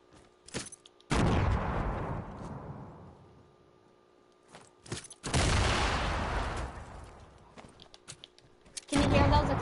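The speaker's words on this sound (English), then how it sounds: "Can you hear those explosions?" Loud bursts of gunfire and booming explosions in the video game Fortnite come in long roaring waves, separated by brief quieter gaps with sharp isolated shots.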